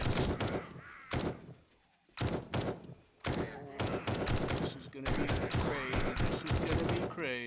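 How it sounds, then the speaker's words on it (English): Video game gunfire from an automatic shotgun and a tactical assault rifle during a horde battle, heard as dense, loud bursts of rapid shots that pause briefly and then resume in heavy volleys. "All we got is a automatic shotgun and a tactical assault rifle."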